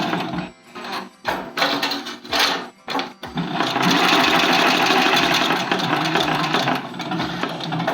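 A sewing machine stitches bias binding, first in short stop-start bursts of rapid mechanical whirring, then a longer steady run of fast stitching, close and fairly loud with no voices.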